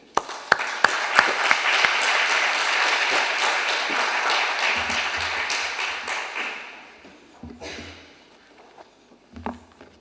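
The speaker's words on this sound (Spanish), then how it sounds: "les voy a pedir un aplauso de agradecimiento y bienvenida" Lecture audience applauding in thanks and welcome, opening with a few scattered claps that swell into steady applause and fade out after about seven seconds, with low rumbles and stray taps near the end.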